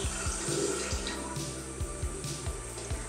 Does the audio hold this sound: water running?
yes